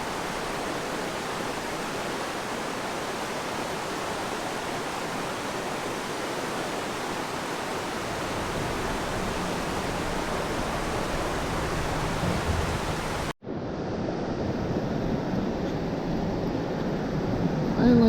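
The Provo River in Utah rushes past in a steady, dense broadband roar close by, continuing unbroken apart from a sudden cut near the end before the flow resumes.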